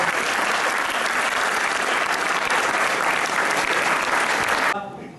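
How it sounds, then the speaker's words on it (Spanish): A crowd at a club history event gives Juan a sustained round of applause, loud and even clapping that cuts off sharply near the end, leaving faint room sound. "un aplauso para Juan."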